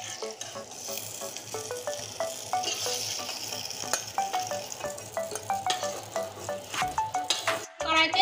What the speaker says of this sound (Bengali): এবার দেখুন বেগুনটা আমি ভেজে নিয়েছি। এবার নামিয়ে নিচ্ছি বেগুন একে একে।